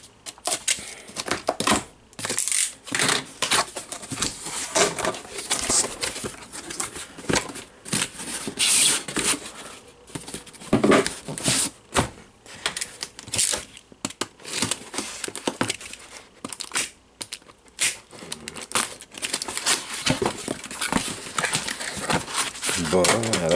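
Packaging for a Hikvision four-camera kit crinkles and rustles close by in dense, uneven bursts, with someone talking throughout.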